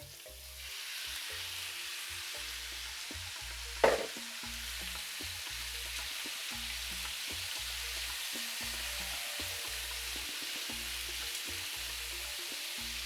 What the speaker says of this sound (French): On va faire revenir la viande.